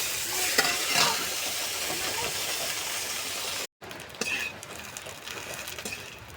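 Ghetkol leaves hitting hot mustard oil in a wok and frying, a loud continuous sizzle with stirring scrapes, briefly cut off, then resuming as a softer crackle with occasional pops, with no talk.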